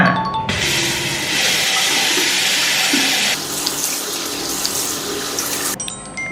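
Tap water runs steadily into a sink during face washing, a loud, close, continuous splashing rush that shifts in texture partway through as hands move under the stream, then cuts off near the end.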